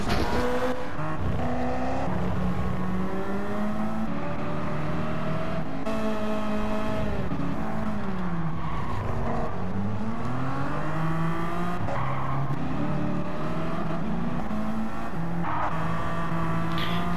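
Race cars in a racing video game run around a track with a continuous loud roar of many engines, their pitch rising and falling as they rev, shift and pass, with no talk.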